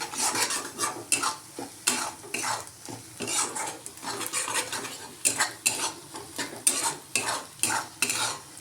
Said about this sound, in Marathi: छान 2 ते 3 मिनिटं परतून घ्यायचा आहे मसाला